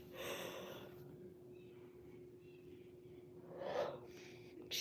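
A person lets out a yawn, a breathy drawn-out exhale that swells briefly near the end, quiet and close against a faint steady hum, with no words spoken.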